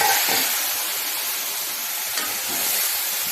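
Water poured into a hot kadai of turmeric, salt and chili powder for a dried sea ribbonfish curry sets off a steady, broadband steaming hiss lasting the whole stretch, close and even, with no voices over it.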